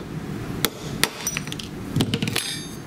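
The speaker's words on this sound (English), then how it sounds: "I'm going to take one of these little shapes and take a whack at it with a hammer." Hammer striking a small salt crystal shape and shattering it, with several sharp cracking hits spread across a noisy, close-up background.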